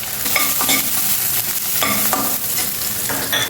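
Chopped onions fry with curry leaves and turmeric in a pan, a steady loud sizzle broken by repeated scraping stirs of a spoon against the pan, with no voices.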